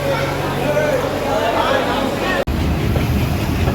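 Nakshikantha Commuter, a local train, pulls out of Faridpur station with a loud, steady rumble of rolling carriages and a brief drop-out near the end, with voices murmuring under the noise.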